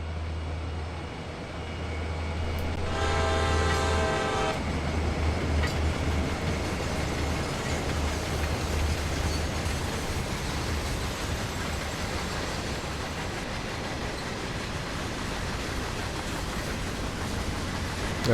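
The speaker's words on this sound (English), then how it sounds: "Just the sounds of the freight carriages are just really nice." Freight carriages roll along the track in Train Sim World's CSX Heavy Haul route, a dense, steady rumble with low drone, a short tonal whine early on, continuous and alone.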